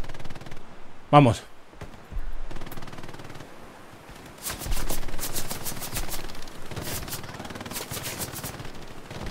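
Machine gun fire in the World War II shooter Hell Let Loose, Omaha Beach setting: a sharp impact, then sustained rattling bursts of automatic fire at mid distance, with someone speaking briefly over the battle noise.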